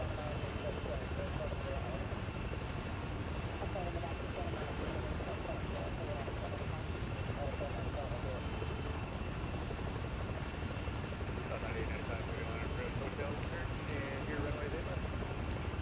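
A modded helicopter in a video game holds a steady, loud rotor and engine drone with a dense broadband roar throughout, its cockpit hum continuous from start to end, and voices can be heard talking over it.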